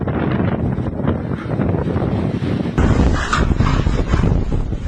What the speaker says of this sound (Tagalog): Rinig na rinig ang pagugupit ng malakas na hangin.